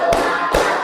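Two sharp claps about 0.4 seconds apart in a classroom, part of a teacher-led counted clapping routine, close and fairly loud over a faint room hum.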